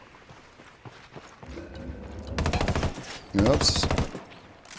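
Rifle gunfire in the Ghost Recon Wildlands video game: loud, rapid bursts of close shots in two clusters, with a short spoken exclamation between them.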